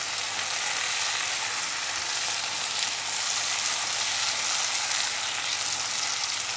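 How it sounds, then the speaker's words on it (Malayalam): Jackfruit cooks in a pan with a steady, close hiss of sizzling that carries on evenly throughout, with only faint hints of stirring. "ഇനി നന്നായിട്ടൊന്ന് ഇളക്കി കൊടുക്കണം."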